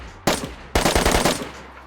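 Gunfire from an AUG rifle in the DayZ video game, styled like an M4. A single loud shot is followed by a rapid automatic burst of about six sharp reports, then a short fading tail.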